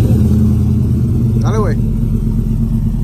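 A car engine drones steadily and low throughout, with a brief whistling chirp partway through, while people talk close by over the motor.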